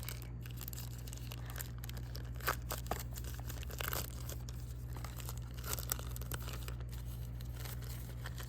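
Plastic crinkles and tears in irregular bursts as a bag is pulled open and handled, with a low steady hum underneath.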